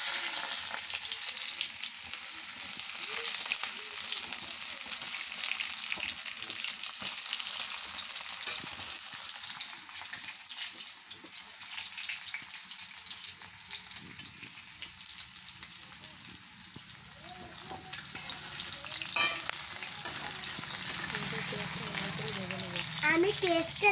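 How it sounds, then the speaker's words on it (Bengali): Onions fry in a pan with cumin, a steady hiss with scraping and stirring noises, close and fairly quiet, and faint talk in the background. "আমি পেঁয়াজটা লাল করে ভেজে নেব, খুব সুন্দর লাল করে।"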